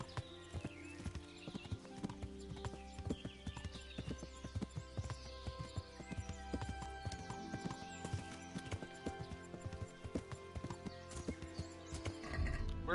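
A horse's hooves clip-clop in a steady walking rhythm in the video game Kingdom Come: Deliverance, fairly quiet and close, with an occasional snort or whinny and little speech.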